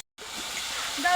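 Steady, bright sizzling hiss of water hitting hot frying spices with ginger-garlic paste, starting abruptly after a brief silence and continuing loudly to the end.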